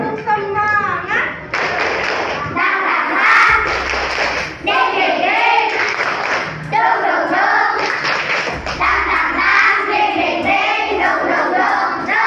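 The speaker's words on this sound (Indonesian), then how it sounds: "Kalau gitu kita terakhir tepuk semangat dulu" A school class does tepuk semangat, rhythmic group clapping in patterned bursts mixed with children chanting and shouting along, loud and close, with pauses between rounds.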